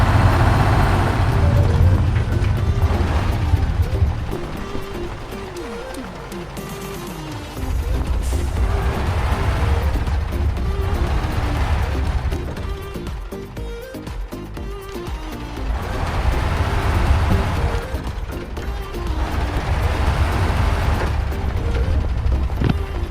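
Heavy truck grinding through deep mud in the off-road game MudRunner, its engine droning loud and steady throughout with clunky mechanical knocks and a brief drop mid-run, no talking.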